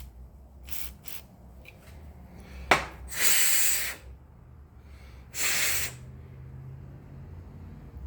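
Sharp bursts of spray cleaner hissing through a part from a Polaris Sportsman 700 ATV, several short squirts followed by two longer close sprays, separated by quiet pauses.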